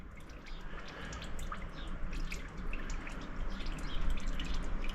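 Engine oil draining from a car during an oil change drips in a steady patter, close and continuous over a low background hum.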